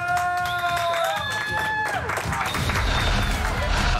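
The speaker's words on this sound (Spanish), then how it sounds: "aplauso para el nuevo." Studio audience applauding and cheering for a new contestant on a televised talent challenge show, a steady wash of clapping and crowd noise with music fading out early on.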